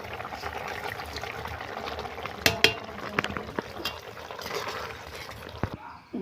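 Fried small fish are dropped into a simmering curry with eggplant, giving soft bubbling and sizzling with a few sharp utensil clinks and splashes, moderately quiet and close.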